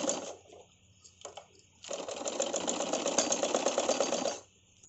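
Sewing machine stitching along the edge of a neck design, a few short stuttering bursts and then a sustained rapid whirring run of stitches that stops abruptly near the end.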